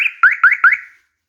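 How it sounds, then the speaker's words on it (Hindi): A cheap electronic alarm buzzer sounds alone, close and loud, in a quick series of four rising electronic chirps, then cuts off into silence. "ये सिर्फ बजर है, यानी बजर है अलार्म की"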